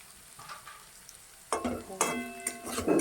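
Potatoes frying in a pan give a soft sizzle that jumps louder as a spatula starts stirring, with repeated scraping strokes and crackling bursts close by, no talking.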